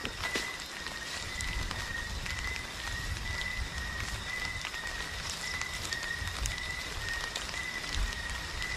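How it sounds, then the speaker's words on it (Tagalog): Steady rain patters on surfaces all around in a continuous soft hiss, with a faint high whistle-like tone running through it. "umuulan pa naman"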